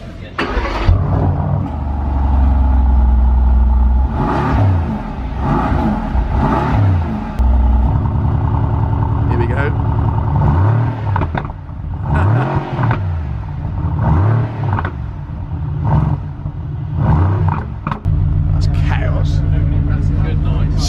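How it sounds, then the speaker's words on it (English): A Mercedes-AMG GT R Pro engine cold-starts with a loud bark, then settles and is blipped repeatedly, sharp revs rising and falling close by, with people talking briefly around it. "I think we're about to get a cold start, are we?"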